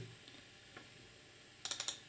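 A few soft, faint clicks, then a quick cluster of sharp computer mouse double-clicks in close succession near the end, from a malfunctioning mouse on Windows 10.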